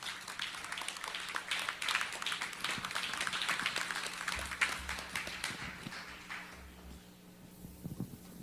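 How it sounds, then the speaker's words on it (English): Church congregation clapping hands together to welcome an apostle, a steady wash of applause with a faint low hum beneath, fading near the end. "Let's clap our hands and welcome Apostle Alidi"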